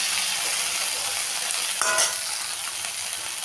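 Okra and potato frying in a pan while being stirred, a steady broadband sizzle running throughout with a brief scrape of the utensil near the middle, close and fairly loud, no talking.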